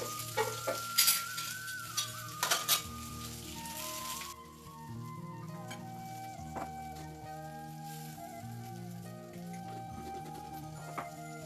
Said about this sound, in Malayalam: അരിഞ്ഞു വെച്ചിട്ടുള്ള വെണ്ടയ്ക്കയും കൂടി ചേർത്ത് കൊടുക്കാം കേട്ടോ.